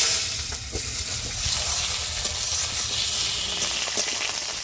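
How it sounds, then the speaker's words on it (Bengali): Cut potatoes frying in a little hot oil with cumin seeds in a wok, giving a steady, bright sizzle and hiss with faint stirring knocks underneath and no voices. "এবার কেটে রাখা আলুগুলো দিয়ে দিচ্ছি"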